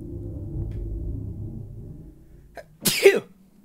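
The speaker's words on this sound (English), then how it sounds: "I have to sneeze already." A single loud sneeze bursts out near the end, a sharp burst with a short vocal tail, after a few seconds of low background hum.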